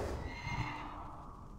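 A horse neighs in a video game, a single clear whinny at moderate loudness over a busy, steady game soundscape with no talk.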